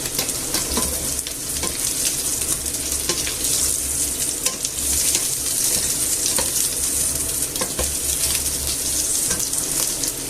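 About eight garlic cloves fry in a pan with a bay leaf while browning for a tender pork dish, a loud dense sizzle with steady crackling and stirring scrapes throughout, no voices.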